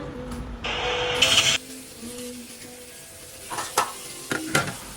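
Chicken pieces being stirred with seasonings by hand or spoon for a Thai herbal steamed chicken dish, giving a few wet scraping, squishing bursts with quiet gaps between them, close up and with no talking.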